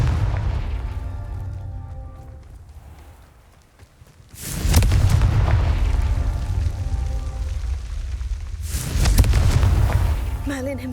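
A Confringo blasting spell in Hogwarts Legacy sets off two heavy, booming explosions several seconds apart, each with a long rumbling tail.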